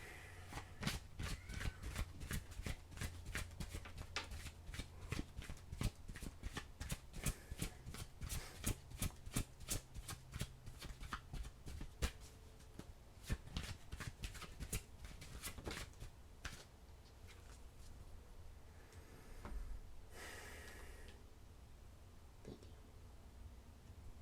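A deck of oracle cards being shuffled by hand, a long run of crisp rapid riffling flicks close up, with soft whispered talk and a few separate card handling sounds near the end.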